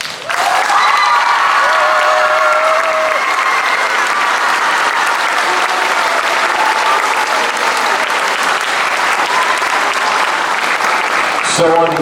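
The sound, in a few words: audience applause honoring a school staff member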